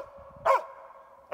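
Two sharp barks from a hunting dog at a tree during a marten hunt, spaced about a second apart, loud and fairly close, over a steady tonal hum in the background.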